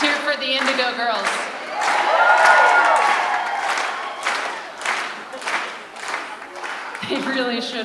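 Audience applause and cheering at a live comedy and music event, a dense, sustained wash of clapping and shouts from a large crowd that swells in the middle and continues to the end.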